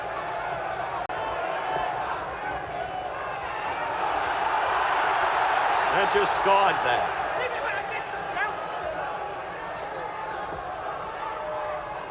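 A British boxing crowd at a Marvin Hagler versus Minter fight roars in a dense, steady wash that rises to a peak midway, with a commentator talking over it.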